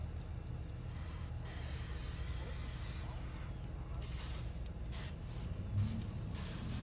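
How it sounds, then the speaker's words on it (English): Battery terminal protectant spray hisses steadily from an aerosol can onto the battery of a Toyota Tundra, a continuous close spray lasting several seconds with slight pulses, no talk over it. "we'll put the battery terminal protectant spray on it"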